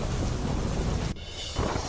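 Heavy monsoon rain pours loudly and steadily during a storm over Navsari, with deep thunder rumbling underneath before the downpour abruptly thins and then swells again.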